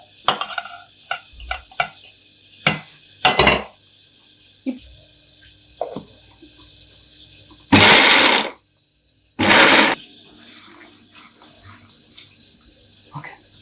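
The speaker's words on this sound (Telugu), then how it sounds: "వేసుకున్న పదార్థాలన్నీ ఇలా మిక్సీ పట్టుకొని కచ్చాపచ్చాగా మనం ఇలా ప్రిపేర్ చేసుకోవాలి" A kitchen mixer grinder coarsely chops onion, garlic, coriander seeds and cumin in two short, loud whirring bursts, set between scattered clicks and knocks.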